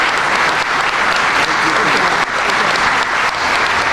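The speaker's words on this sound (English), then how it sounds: "Give her a round of applause." A crowd at a public safety training center ribbon-cutting in Chicago applauds the mayor, loud, dense clapping close by that holds steady for four seconds, with cheering voices mixed in.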